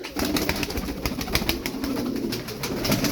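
Tumbler pigeons coo in a continuous, overlapping chorus of soft, throaty calls, close by and fairly steady throughout, with no talking.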